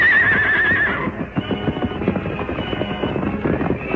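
Horses whinny shrilly as the outlaws' mounts are turned loose, then a busy clatter of hooves takes over as they gallop off, loud and close throughout.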